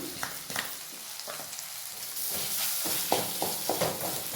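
Coconut and green chili paste fries in a pan while cooking a beans fry, a steady close sizzle with scattered clicks and scrapes from stirring.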